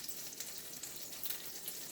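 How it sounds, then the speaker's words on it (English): Salmon fillets sit skin side down in a very hot oiled pan and sizzle and crackle steadily at close range, with no one talking. "you've got to have a hot pan with the oil really hot for the crispy skin"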